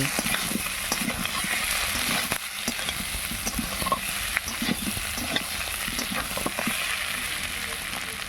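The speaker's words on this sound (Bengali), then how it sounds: "দেখো খুব সুন্দরভাবে কষানো হয়ে গেছে একদম তেল তেল ছেড়ে ছেড়ে দিয়েছে" Spiced mutton stir-frying on low heat for a village-style curry, with a continuous close sizzle and frequent scraping, clattering stirs throughout and no speech.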